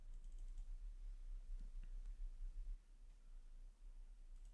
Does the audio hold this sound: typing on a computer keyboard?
yes